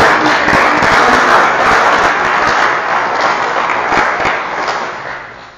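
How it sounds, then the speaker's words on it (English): A small audience at a WordPress developers meetup gives a round of applause, dense steady clapping filling the room before tapering off toward the end. "he deserves a round of applause for that."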